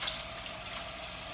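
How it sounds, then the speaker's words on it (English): Tap water running into a sink during hand washing in a home kitchen, a steady, even rush of water heard close up with no talking. "You might want to wash your hands"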